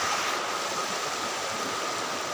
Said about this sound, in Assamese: আৰু এইফালে তললৈ একদম নদী